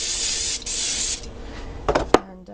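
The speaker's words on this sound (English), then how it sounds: "grease up your waffle iron. I just use a little bit of this Pam stuff." Pam cooking spray hisses steadily onto a waffle iron for about a second, then a few short clicks and knocks follow as the can is set down, all close and clear.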